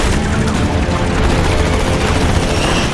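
Dense, continuous roaring blasts of rapid fighter jet cannon fire fill the clip, loud and unbroken, with booming low rumble throughout.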